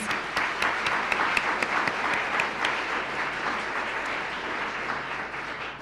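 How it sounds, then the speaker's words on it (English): An open-house audience of admitted students and families applauds the weekend's organizer, a full, even round of clapping that stays strong and tapers slightly toward the end. "all of us should give her a round of applause"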